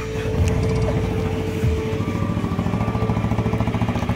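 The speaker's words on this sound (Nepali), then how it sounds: "ल बाइक निस्किँदैछ अब यहाँ" A motorbike sets off nearby, its engine running with a rough, throbbing rhythm that settles into fast, regular pulses as it pulls away.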